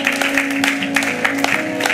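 Congregation applause during a church sermon, a steady wash of many hands clapping at close range that swells and dips in waves for the full two seconds, with no voice over it.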